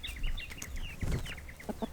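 Backyard homestead chickens in rural Australia cluck and chirp in short repeated bursts while being fed a snack, the calls close and steady with a few sharper notes near the end.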